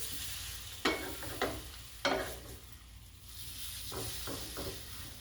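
Breakfast food frying in a pan on a home stove and being flipped over, a steady sizzle broken by several sharp clatters and scrapes of a utensil against the pan.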